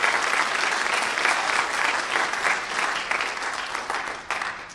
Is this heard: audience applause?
yes